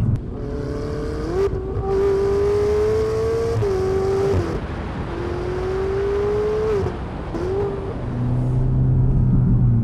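Ferrari Roma turbocharged engine revving hard while driving, rising through the revs in several loud pulls with brief dips at gear changes, steady interior roar throughout, no talking.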